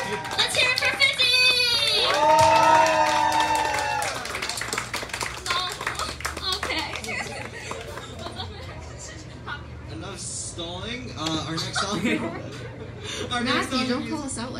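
A crowd at a bar rock band performance cheers and claps for a performer, loud whoops and shouts at first, then scattered clapping and chatter continuing with voices talking over it.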